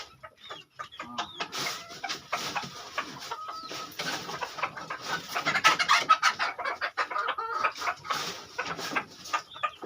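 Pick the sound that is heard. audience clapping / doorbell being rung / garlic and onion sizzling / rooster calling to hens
rooster calling to hens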